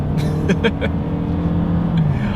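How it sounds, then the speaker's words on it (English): A 2020 Toyota Camry with its 4-cylinder engine pulls hard under acceleration, a steady loud cabin drone with engine hum and road roar building continuously throughout. "let's go ahead and do an acceleration here in the 2020 Camry"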